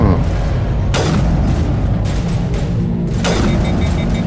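Gunfire with armor-piercing rounds in the video game Mass Effect on PS5: heavy, loud booming shots and rumbling impacts, a dense wall of sound with sharp blasts near the one- and three-second marks.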